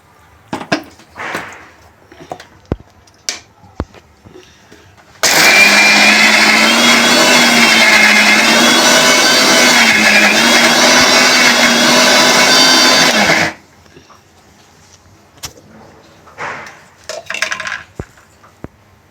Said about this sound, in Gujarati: આમ જોઈ શકો છો દાળ કેવી સરસ અધકચરી ગ્રાઇન્ડ થઈ ગઈ છે.